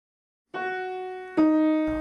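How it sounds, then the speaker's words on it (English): The twelve-tone row of Webern's quartet Op. 22: a few sustained, clear instrumental notes played one after another, each held with a smooth tone, in a quiet, sparse setting. "What you're hearing is the 12-tone row that forms the basis of the quartet."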